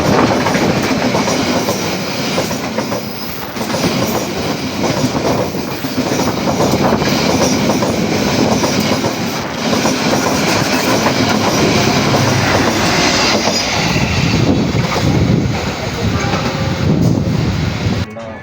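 The Pandalungan passenger train, running from Jember to Jakarta Gambir, rolls into Jatiroto station with a loud, continuous rumble and rhythmic clickety-clack of wheels on rails, heard close by from a waiting train.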